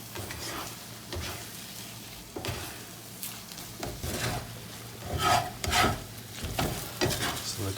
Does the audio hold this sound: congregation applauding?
no